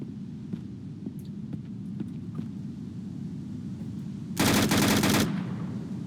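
An AR-15 style rifle fires a single rapid burst of about a second in the Vein zombie survival game, loud and dense, over a low steady hum of game ambience.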